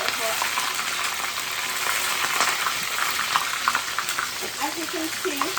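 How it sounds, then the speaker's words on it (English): Fish sizzles and spits steadily in very hot oil in a frying pan, a loud, dense crackle close by that runs throughout, with a person talking over it. "So this is how you put your fish in, making sure that it goes in nicely because the oil is really hot"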